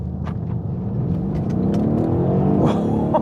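A 2016 Mercedes-AMG E63 S heard from inside the cabin, with a loud, steady engine and exhaust roar building under hard acceleration and brief burbles and pops from the downshifts.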